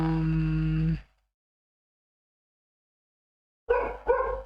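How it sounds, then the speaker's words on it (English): A nearby dog lets out a sustained, drawn-out bark, falls silent for several seconds, then starts up again with a couple of choppy barks. "Sorry about the dog. For some reason seems to be barking quite a lot."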